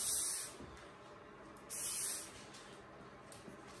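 Silicone spray is applied to a bicycle gear cable on a Bianchi T-Tronik Sport, heard as two short hissing bursts of aerosol, close and fairly loud, separated by a quieter stretch of background hiss.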